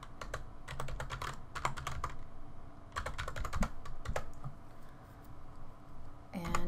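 Quick bursts of typing on a computer keyboard as a layer name is entered, clustered clicking keystrokes with short pauses between groups, close and clear, no talking.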